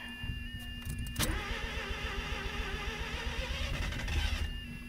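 A car engine with a dirty carburetor cranks and turns over in a steady, continuous mechanical churn, loud and close, with a sharp clunk near the start and no voices.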